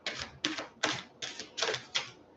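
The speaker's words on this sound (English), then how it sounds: "Two more shuffles, and if nothing comes out, I will pick one card" A deck of oracle cards being shuffled by hand: six crisp, papery bursts in a steady rhythm, close and distinct, each one quickly fading, with no talking.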